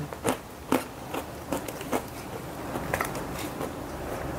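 Crunchy kacang kribo, a fried peanut snack, is bitten and chewed close to the mic, a string of sharp crisp crunches spaced about half a second apart that grow softer toward the end.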